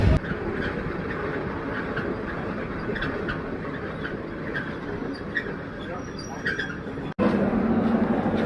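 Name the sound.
train running on rails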